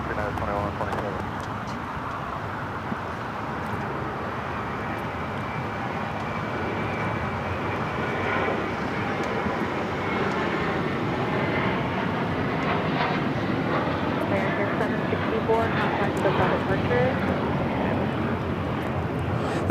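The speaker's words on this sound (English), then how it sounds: "clear for takeoff" An airliner takes off from runway 25 right at LAX, its jet roar steady and gradually swelling over the full stretch, with voices talking over it.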